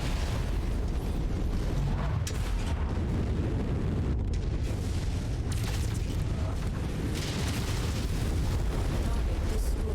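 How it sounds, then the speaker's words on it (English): Building blown apart by explosions in MechWarrior 5, a dense, continuous wall of loud booms, bursts and rumbling destruction lasting around ten seconds. "Not sure why we needed to blow up the building around it"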